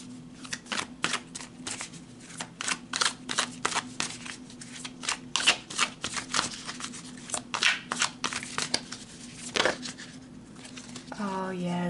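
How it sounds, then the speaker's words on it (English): Tarot cards shuffled by hand in a series of quick crisp riffles and slaps, close and clear, coming in irregular bursts with short pauses between them. "All right, let's pull more cards."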